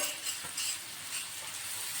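A spoon stirring masala with added water in a pan, giving soft scraping strokes over a faint continuous sizzle, heard close and quiet without speech.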